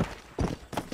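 Horse hooves in Red Dead Redemption, a few quick clip-clop hoofbeats heard as brief distinct thuds in under a second.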